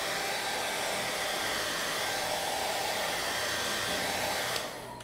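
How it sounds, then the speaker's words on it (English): A hair dryer blows steadily on a freshly painted model panel in glossy panzer gray, a loud, close, continuous whooshing whir that holds for several seconds and then drops off as it is switched off, with no talking. "So let's dry this one real good."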